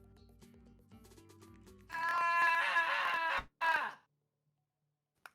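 A man screams into the void, a loud sustained strained yell lasting over a second, then a second shorter burst after a brief break, preceded by quiet background noise.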